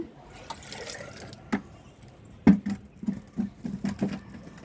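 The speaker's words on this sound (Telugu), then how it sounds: "నీళ్ళు వేస్తాం అనుకోండి ఫాస్ట్గా రెడీ అవుతుంది" Water is poured and splashed over a compost heap of dried leaves and soil in a home garden, landing in short uneven bursts of close splashes and drips.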